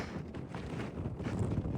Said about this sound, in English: And it's getting pretty windy.